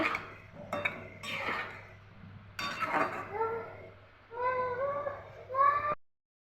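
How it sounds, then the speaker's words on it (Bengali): A metal lid set onto a cooking pot of taro (kochur mukhi) and taki fish curry gives a few close clanks and clinks, followed by faint ringing tones. "ঢাকনা দিয়ে দিচ্ছি"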